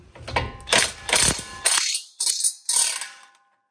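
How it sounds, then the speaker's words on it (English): A large impact gun with a 13/16 socket removing red-Loctited bolts from a Ford Explorer Sport Trac brake job: several loud ratcheting bursts close by, separated by short pauses, each rattling hammer lasting about a third of a second. "I'm going to be using this big impact gun because it makes it quick and easy."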